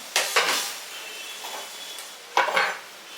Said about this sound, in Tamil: எல்லாமே சேர்த்து நம்ம கிளறணும்